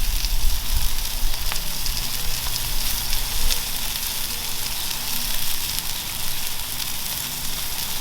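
Smash burgers sizzle on a griddle over medium-low heat, a steady crackling hiss that stays fairly loud and even throughout.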